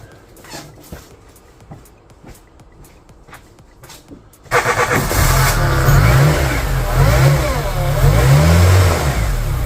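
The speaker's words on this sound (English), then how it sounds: "let's start this engine now" A VW Polo Mk2 86c engine cranks with a few quiet clicks and taps, then catches abruptly and settles into a loud, close, steady idle with slight revving.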